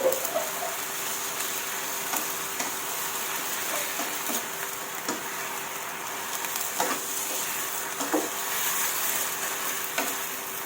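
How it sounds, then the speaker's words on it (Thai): Chinese cabbage stir-fries with sugar in a hot pan, giving a steady sizzle with scattered clicks and scrapes of stirring throughout, close and moderately quiet with no talk. "เอาละจ้าผัดทุกอย่างให้เข้ากันดีค่ะ"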